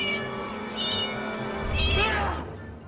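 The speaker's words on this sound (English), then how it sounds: "meow 3 times." A cat meows several times, drawn-out tonal calls rising and falling over about three seconds, fairly close and clear with no talk over them.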